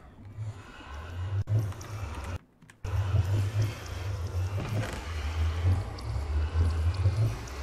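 A Minecraft nether portal gives off a loud, continuous whooshing drone with a low, wavering rumble. The drone cuts out for a moment, then resumes and swells on and off.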